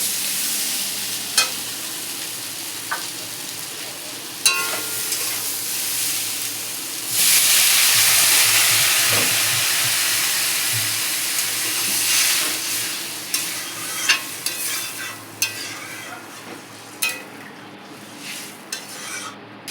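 A utensil scrapes and clicks in a pan while food sizzles at lunchtime in a home kitchen, with a louder hissing burst of frying partway through before the stirring continues.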